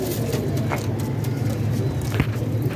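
A pet pigeon coos low and continuously, close by, with a couple of short sharper calls breaking over the steady murmur.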